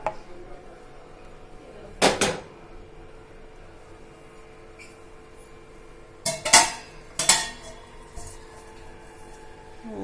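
A filled appe pan of rava batter is set onto a gas stove with a metallic clank, and a couple more clattering knocks follow a few seconds later over a low, steady background hiss.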